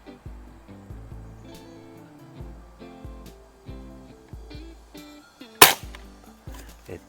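A single sharp crack from a Daisy Powerline 856 Eagle air rifle, loud and close, rising out of a backdrop of rhythmic plucked music with repeated notes.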